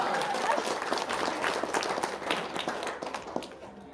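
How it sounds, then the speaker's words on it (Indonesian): An audience at a live talk event claps, starting loud and full and thinning gradually toward the end, with faint voices underneath. "Tepuk tangan dong."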